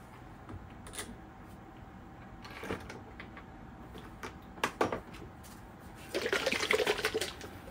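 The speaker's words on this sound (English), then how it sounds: "And I'll start pouring oil in this end." Oil being poured into an engine system during a repair, faint glugging and splashing liquid with scattered clunks, swelling into a louder, fuller pour toward the end.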